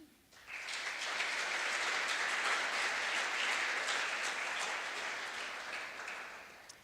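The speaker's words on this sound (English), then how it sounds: "I would just like everybody to give a big round of applause for this session" Audience at a savanna science network meeting applauding the session speakers, a steady wash of clapping that swells in quickly, holds evenly for several seconds and tapers off at the end.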